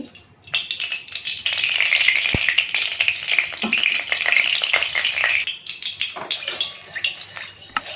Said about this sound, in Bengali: কড়াই খানিকটা তেল আছে বেগুনটা তুলে নিয়েছি আর খানিকটা তেল দিয়ে দিচ্ছি